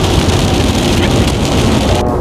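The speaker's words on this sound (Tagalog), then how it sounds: "Ulan lang. Ulan yan." Heavy rain pours steadily in Whitecourt, a dense loud hiss of drops drumming on a surface with no pauses.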